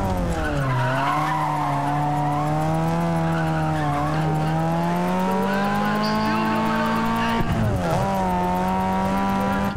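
A car drifting in the racing game NFS ProStreet gives a long, loud, continuous tire squeal with a steady engine drone, then a brief break and another screech near the end.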